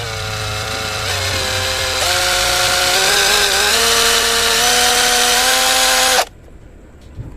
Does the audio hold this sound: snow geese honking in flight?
no